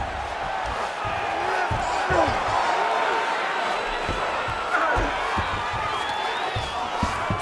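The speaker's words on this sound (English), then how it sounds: "huge pop from the crowd as the fighters get back up to their feet" A UFC arena crowd roars steadily as fighters get back to their feet, a dense, continuous wash of cheering and shouting with sharp thumps scattered through it.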